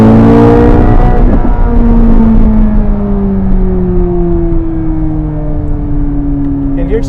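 A Corvette C8 Z06 or Porsche GT3 991.2 sports car accelerates hard, its loud engine note climbing steadily through the revs with a shift midway, heard from close inside with strong rumble and wind roar.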